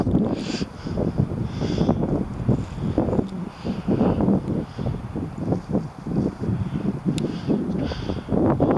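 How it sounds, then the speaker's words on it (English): Cold wind gusts across heather on open moorland, rumbling and buffeting close to the microphone in uneven, continuous surges with no talking. "That wind is getting up, cold wind as well."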